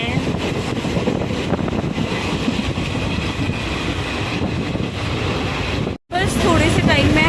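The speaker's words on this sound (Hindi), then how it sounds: "ठंडी ठंडी हवा आ रही है।" Steady broadband rush of cool wind blowing past a moving train on a Jammu Tawi to Barmer express run, with rail rumble underneath, loud and continuous, briefly cutting out near the end before resuming.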